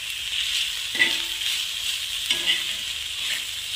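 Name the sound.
roasting ginger, spices and coconut in a pan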